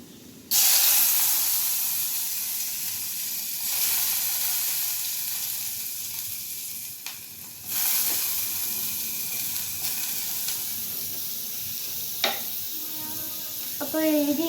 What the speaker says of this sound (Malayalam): അപ്പം എണ്ണ ചൂടായി. ഇനി നമുക്ക് ഇഞ്ചിയും വെളുത്തുള്ളി ഇടാം.